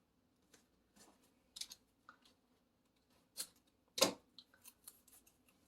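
Scissors cutting a strip of card paper for a handmade shaker card, a few quiet, close snips and crisp clicks spaced apart against a near-silent background.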